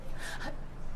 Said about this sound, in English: You're panting.